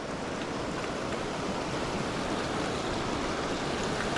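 Steady rushing water, a continuous broadband wash like a stream flowing over rocks at a trail crossing in the Wind River Range, close and even throughout with no voices.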